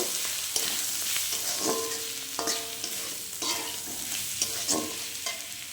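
Potato with salt, turmeric and chili powder is stirred in a pan for a tengra fish curry with tomato, soft sizzling under repeated scraping strokes of a spatula at a steady rhythm, close and alone.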